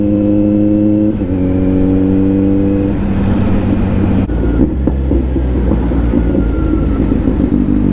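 Kawasaki Z900 superbike engine, loud and close, droning steadily in a high gear, then stepping up in pitch as it accelerates, with wind rush over the microphone and no talk.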